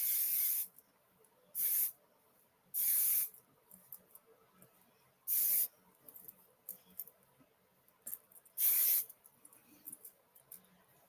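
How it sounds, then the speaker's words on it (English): Hairspray hisses in short, sharp bursts while being applied to fine, curled hair, six or so quick sprays spaced irregularly with quiet pauses between, close and crisp. "Put a little spray in it."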